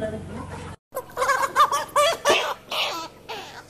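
Young farm chickens, eight weeks old, cluck and chatter in a series of short calls after a brief pause, fairly close and overlapping with some voices in the background.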